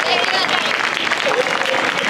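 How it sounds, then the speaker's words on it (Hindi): Loud, dense applause from a crowd at a Congress party rally in Delhi, welcoming Jagjivan Sharma on stage, sustained and steady throughout. "मैं सभी साथियों से चाहूँगा एक बार जोरदार तालियों से जगजीवन शर्मा जी का स्वागत करें।"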